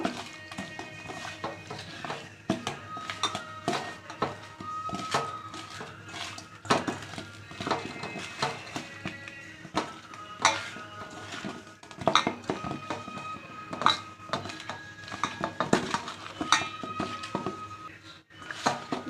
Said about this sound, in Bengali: লবণ দিয়ে দিলাম হলুদ দিয়ে দিলাম ভালো করে মেখে নেব